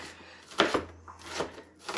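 Knife chopping an onion on a board for clam chowder, a few sharp close cuts in a short burst followed by quieter scraping, no talking.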